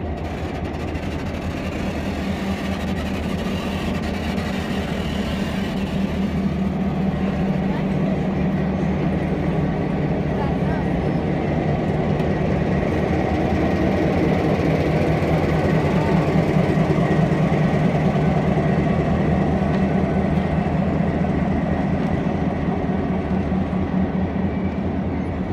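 A train rolls steadily past at close range for the whole stretch, a dense continuous rumble and clatter of rail cars on a heritage railway line, with no gaps.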